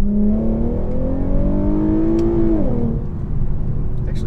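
An Infiniti Q50's engine revs up loudly and steadily as it accelerates in second gear from a 30 mph roll, its whine climbing in pitch before easing off.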